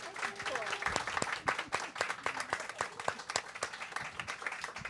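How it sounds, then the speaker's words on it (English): An audience gives a round of applause for the authors, dense clapping holding steady throughout with no voices over it. "Let's give our authors another round of applause."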